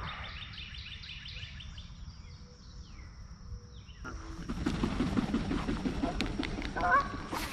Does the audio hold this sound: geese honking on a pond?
yes